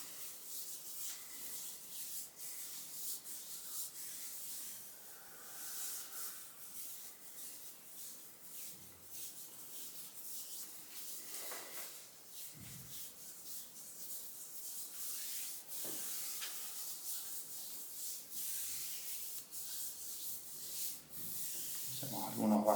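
Oiled hands rub and glide over the skin of a back during a massage before cupping therapy, a soft continuous rustling friction that swells and eases in slow strokes, close and fairly quiet, with no talk.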